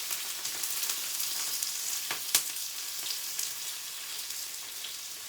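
Onion and green chili frying in hot oil with cumin seeds, a continuous dense crackling sizzle with a brief sharper pop partway through, close and without speech.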